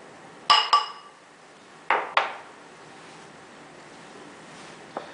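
Eleven ounces of sugar go into a mixing bowl for a vanilla chiffon cake: two sharp clinks of a scoop against the bowl, then two short grainy rushes and a faint final tap, close and quiet, with no talking.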